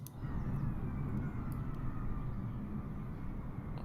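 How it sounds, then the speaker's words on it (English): Big airplane passing overhead and landing in Microsoft Flight Simulator VR, a steady broad rumble and roar, moderately loud and continuous, with no talk. "can hear a big plane going. It's landing there."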